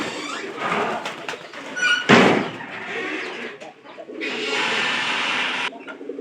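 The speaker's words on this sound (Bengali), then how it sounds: "কবুতরটা কিন্তু সে লেভেলে ডাক পারে" A pigeon coos in bursts close by, with a sharp clattering knock in the middle and a longer steady stretch of sound near the end.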